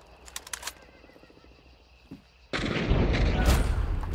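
Gunfire in a video game firefight. A few sharp distant shots come first, then a loud sustained burst of shooting and bullet noise surges in and fills the rest.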